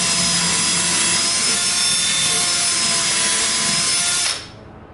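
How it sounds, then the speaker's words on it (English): A power drill bores into wood for a sink base cabinet, a loud, steady high-pitched whine with the bit cutting continuously for about four seconds before the motor cuts off and spins down. "So I backed it up to just clear the hole of chips a little bit and then drill it back."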